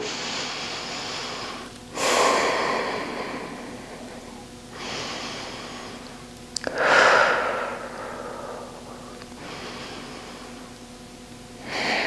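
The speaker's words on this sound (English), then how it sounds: "We're gonna take 3 breaths here, breathing into left side body." Slow, deep breaths during a yoga side-body stretch in a gentle morning flow, each long inhale and exhale rising and fading in turn, several full breath cycles heard close up with no talking.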